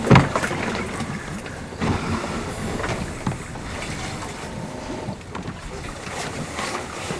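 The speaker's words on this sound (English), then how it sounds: "Fucking blowing hard out there." Strong wind batters a sailboat at sea. Steady, loud gusty roar and microphone buffeting run throughout, with water and hull noise underneath and no clear talk.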